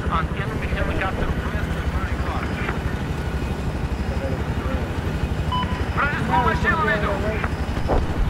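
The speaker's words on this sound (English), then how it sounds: "I have eyes on enemy helicopter." A constant droning rotor roar of a helicopter in the video game Battlefield 4 fills the clip, loud and steady, while voices talk over it.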